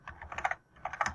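Quick bursts of keystrokes on a computer keyboard, two short clusters of clicking separated by a brief pause, close and clear with no voices.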